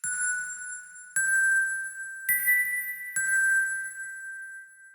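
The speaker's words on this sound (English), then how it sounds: "I've added a little bit more layering to that bell and just added some" Four layered bell strikes, a digital sound effect with added reverb, ring out in steady succession, each tone bright and sustained with a reverberant tail, alone with no voices.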